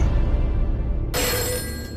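A telephone in a mystery film about a house phone connecting to someone in the past rings out abruptly partway through, a loud bright electronic ring that starts suddenly over a dull low rumble and carries on to the end.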